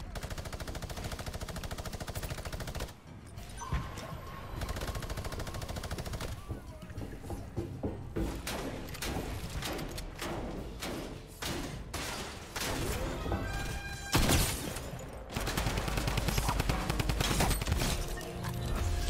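Drum gun gunfire in the Fortnite battle royale game, dense rapid automatic bursts and scattered shots with thuds, loud and continuous with brief pauses.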